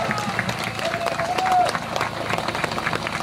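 An audience applauding the automobile club at a drift event in Ustroň, with dense, steady clapping from a sizable crowd mixed with a speaking voice over it.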